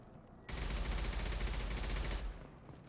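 Bursts of rapid gunfire in the video game Mass Effect 2, a loud, dense volley lasting about two seconds before cutting off, with no talking.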